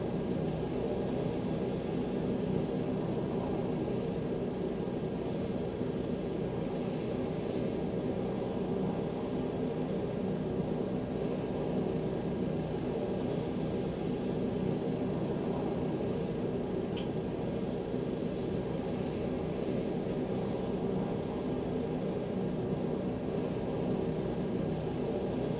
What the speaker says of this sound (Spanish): tienes una visual con este helicóptero alucinante sobre casi cualquier rincón